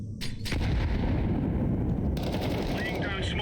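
A grenade goes off in a CS2 firefight, a sharp burst near the start that gives way to a continuous roar of heavy gunfire filling the rest of the moment.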